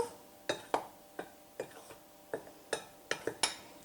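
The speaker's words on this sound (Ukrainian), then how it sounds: "Перемішую." A spoon clicks and scrapes against a bowl in quick, irregular taps while cornstarch and baking powder are mixed, close up with no talking.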